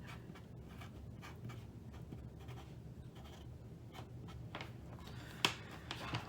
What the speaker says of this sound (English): I'm going to write hot and start